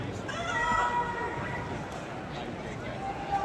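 A human voice imitates a cat's meow, drawn-out and wavering, with faint background chatter.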